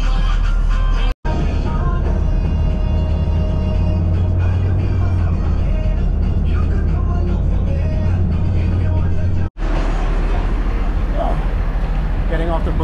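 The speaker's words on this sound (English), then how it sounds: "Getting off the bus here in Parade" Steady low rumble of a city bus interior while riding in Jamaica, constant engine and road noise throughout with two brief dropouts, and voices murmuring under the drone.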